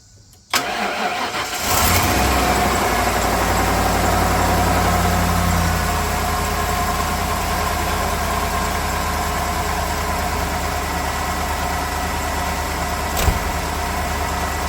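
A car engine starting up after an oil change, cranking briefly and catching, then settling into a steady, close idle that runs evenly for the rest of the clip.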